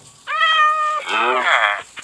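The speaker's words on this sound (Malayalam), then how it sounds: "മൈ ഡിയർ പൂച്ച കുട്ടി പോയി" A cat in the Minecraft video game meows twice in quick succession, with two loud, close, drawn-out calls and no other sound around them.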